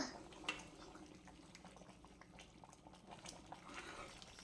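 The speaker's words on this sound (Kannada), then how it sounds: "ಚೆನ್ನಾಗಿ ಕುದಿ ಬರ್ತಾ ಇದೆ" Water with ghee and rice bubbles at a boil in a cooking pot, a faint, soft burbling with scattered small pops and splashes rising and falling over a quiet background.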